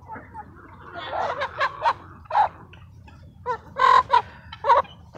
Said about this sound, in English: Over here we have our last batch of meat birds